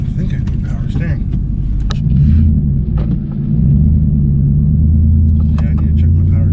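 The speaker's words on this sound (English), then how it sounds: "That sound, that full lock and unlock. Power steering is a little wonky." A 2008 Nissan Titan's power steering groans at full steering lock, a low, steady droning rumble with a brief lift in strain midway, holding close and loud throughout.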